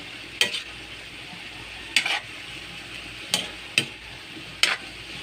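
Baguio beans and tofu sautéed in a pan, five sharp clinks of a utensil against the pan spaced over a low steady sizzle, close and clear with no talking.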